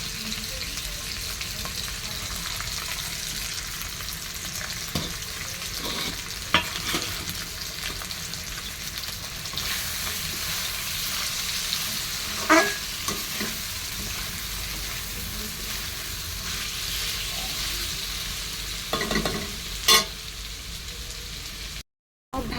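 Carrots, beans and onion stir-fried in a pan: a constant close sizzle with intermittent spatula scrapes and clacks, ending in a brief cut to silence.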